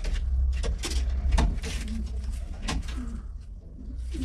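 Racing pigeons coo in soft, low repeated calls close by, with scattered clicks and rustling from the loft.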